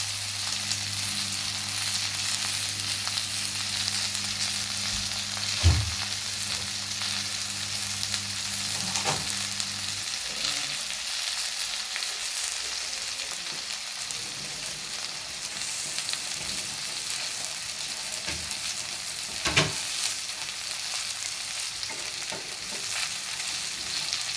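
Okra frying in a pan on a stove, a steady close hiss of sizzling oil running throughout with a few brief knocks and clinks, no voices.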